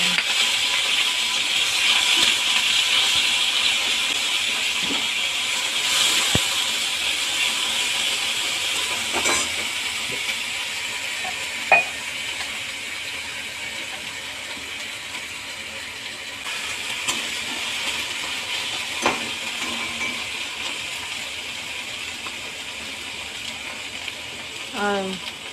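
Ginger-cumin paste and spices frying in a pan, giving a steady hiss and sizzle throughout with occasional clinks and scrapes; a person talks over it at times.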